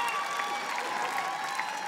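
A stand-up comedy audience in Las Vegas applauding steadily, a dense patter of many hands clapping at an even level for the whole stretch.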